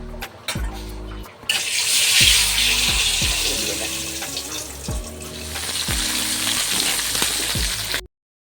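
Cut fish pieces frying in a home kitchen pan, a broad steady sizzle filling most of the stretch after a quieter start, with repeated low knocks and clatter of utensils throughout and no talk.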